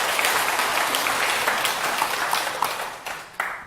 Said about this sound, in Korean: 박수 한번 부탁드립니다